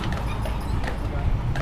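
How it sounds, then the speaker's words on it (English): A Percheron horse's hooves clip-clop in a steady rhythm near a city cemetery, close and clear, with people talking over the hoofbeats. "all of our horses, they're all Percherons"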